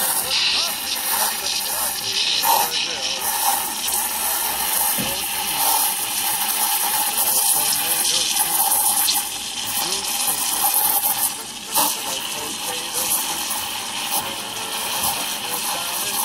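An espresso machine steam wand froths milk into microfoam with the tip held just below the surface, making a steady, close hiss with a watery gurgle and faint voices in the background.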